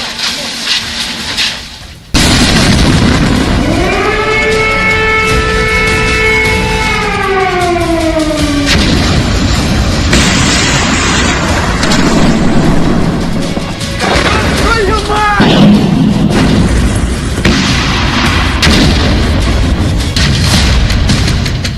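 Russian air strikes around Kyiv bring heavy booms and crashes mixed with a wailing air-raid siren, loud and continuous, with a voice talking over parts of it.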